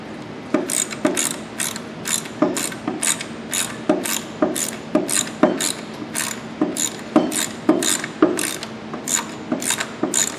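A ratchet wrench clicks in steady, rapid strokes, tightening bolts while a 6F50 transmission is installed on a 3.7 Duratec engine, loud and close with an even rhythm throughout.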